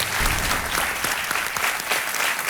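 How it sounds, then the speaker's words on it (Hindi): A studio audience on the KBC quiz show breaks into loud, continuous applause, a dense wash of clapping that lasts the whole moment. "तालियों के साथ एक बार इनका अभिनंदन।"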